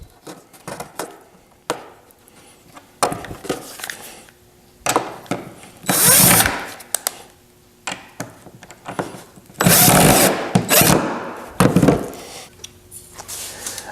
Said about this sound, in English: Well, I got our back rails all clamped up.